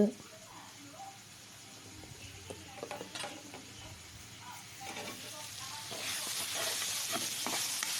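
Steady sizzling and hissing of onions frying in a pan for an egg kurma, with occasional stirring scrapes, growing louder and brighter toward the end.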